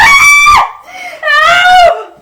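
A woman screams twice in close succession, loud, shrill and sustained, with a short break between the cries, in a tense Jamaican drama scene where she is being threatened.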